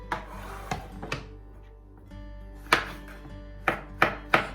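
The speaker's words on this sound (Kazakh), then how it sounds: "Видеода көріп тұрғандарыңыздай пиязды орташа бөліктерге бөліп турап аламыз. Содан соң саңырауқұлақты да дәл сондай етіп тураймыз." A knife chops onion and then mushrooms into medium pieces on a board, giving sharp, close knocks in small clusters of two or three with a quiet pause between groups, with no talk.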